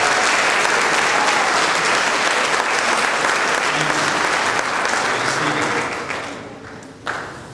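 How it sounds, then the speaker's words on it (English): Sustained applause from a high school class night audience honoring student award recipients, loud and steady for about six seconds before tapering off, with a brief final burst of claps. "Let's give them a round of applause."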